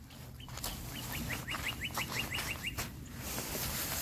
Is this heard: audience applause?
no